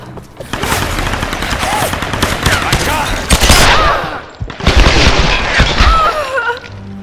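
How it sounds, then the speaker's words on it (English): Rapid gunfire in the video game Tomb Raider Definitive Edition, loud bursts of automatic fire and shots crackling continuously, with a short break midway before the shooting resumes. "Who's shooting?"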